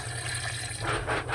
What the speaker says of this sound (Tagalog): dalawang baso na tubig ang nilagay ko